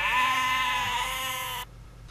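A single sheep bleat, loud and near, held as one long wavering cry that stops abruptly and leaves near-silence.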